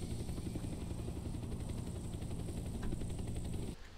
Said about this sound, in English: I have the helicopter now